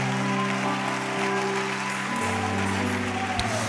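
Church congregation at a Sunday closing worship service clapping and cheering in a dense continuous roar, with sustained music playing loudly underneath throughout.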